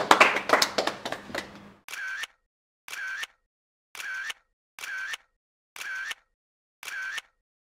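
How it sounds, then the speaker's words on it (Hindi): A group of students claps hands together in a short, dense burst of applause that ends abruptly, followed by a regular series of separate mechanical clicking bursts. "तालियां बजाओ भैया जी।"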